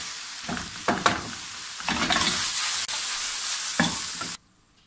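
Mushrooms dropped into a hot pan while making a macaroni gratin give a steady, close frying sizzle with a few soft stirring clatters, stopping abruptly near the end.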